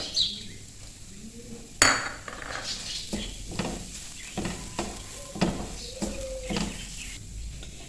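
Mooli paratha filling is mixed in a bowl, with a sharp metallic clink early on and then repeated scraping, rustling and tapping of the utensil against the bowl, moderately close with no talk.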